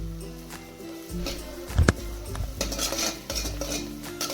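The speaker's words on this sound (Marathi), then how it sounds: "कडीपत्ता पण व्यवस्थित असा आपल्याला तेलामध्ये परतून घ्यायचा आहे" Curry leaves stirred with a spatula in hot oil for a spicy bazaar amti bring close metallic scraping and clattering against the pan, with one loud clank midway over a faint sizzle.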